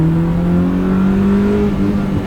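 A car engine revs hard at high RPM, a loud, steady, close buzzing drone with a slowly climbing tone, and no talk over it.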